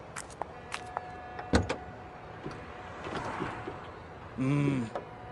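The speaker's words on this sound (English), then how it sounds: "How about you pop the hood and we can take a look?" A car's hood is popped open with a scatter of sharp latch clicks and a louder clunk, followed by a brief mechanical whir near the end, all close and quiet.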